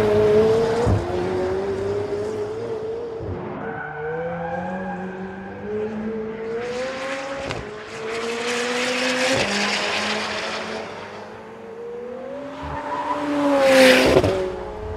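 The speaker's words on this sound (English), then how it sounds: "It's 2 o'clock in the morning, it's pouring with rain, not great conditions" A 2018 McLaren 720S supercar engine roars and shifts through gears while driving in pouring rain, pitch rising and dropping repeatedly, loud and close, with a sharp surge near the end.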